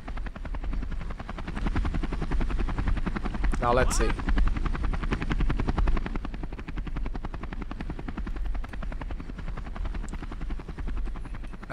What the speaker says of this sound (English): Helicopter just arrived.